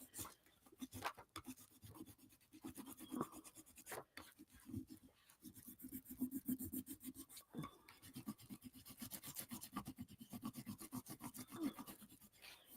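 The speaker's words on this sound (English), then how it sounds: "we're gonna put this down and we're gonna do a rubbing" Crayon scraped back and forth over paper to make a rubbing, a faint, rapid scratchy rasp in close strokes that continues steadily, with occasional short pauses.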